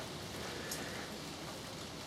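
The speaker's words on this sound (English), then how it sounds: "You can probably just about hear the rain on the glass on the roof." Rain falls on the glass roof of a glasshouse on a summer day as a faint, steady, even hiss of patter with no other sounds.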